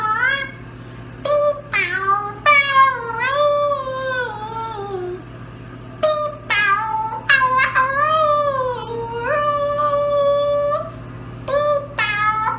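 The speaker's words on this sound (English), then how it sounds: "oh my god, cats." Several cats meowing one after another, loud and close, with long drawn-out, wavering cries in clusters separated by short pauses over a steady low hum.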